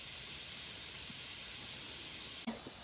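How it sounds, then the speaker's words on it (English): Facial steamer hissing steadily, a loud continuous breathy rush that runs without a break before a brief bump cuts across it near the end. "there's like steam coming from it"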